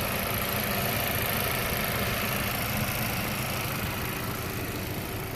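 A 2019 Chevrolet Equinox LS FWD with a 1.5-liter turbo engine idles with a steady, even hum and low rumble, unchanging throughout, with no voices.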